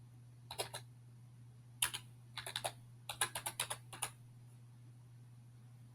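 Keystrokes on a computer keyboard entering an EIN into an online form, heard as a few short bursts of close, crisp clicks separated by pauses, over a steady low electrical hum.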